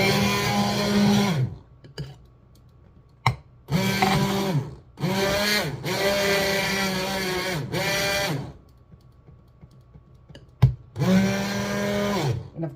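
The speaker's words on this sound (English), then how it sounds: "when you using a stick blender, because it's soap, you get real foamy." A stick blender whirs in bursts while mixing homemade body wash soap with shea butter, several loud runs of a few seconds each separated by quiet pauses, with a sharp knock or two between bursts.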